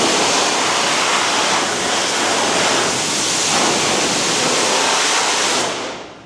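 Rinse water sprays steadily over an American car being washed, a continuous loud hiss and splatter that holds evenly for several seconds before cutting off near the end, with no voices.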